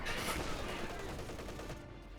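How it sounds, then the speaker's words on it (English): Artillery barrage in Company of Heroes 2 rumbles as a dense, continuous roll of blasts and crackling fire, loud and steady throughout, with no voices over it. "Now there's this barrage coming on in."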